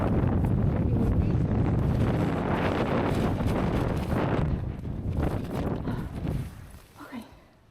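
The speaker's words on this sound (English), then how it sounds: "This was really windy." Strong wind in Iceland buffets the microphone in a loud, continuous, gusty roar that slowly eases toward the end, and a voice speaks briefly underneath.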